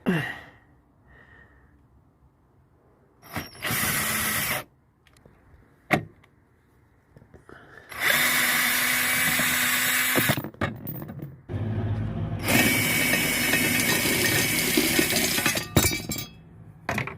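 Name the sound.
power tool with a 1/2 inch socket removing bolts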